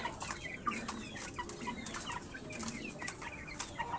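Rhode Island breeder chickens in a backyard coop cluck and chatter softly, with scattered short calls over a constant low background hum and no voices.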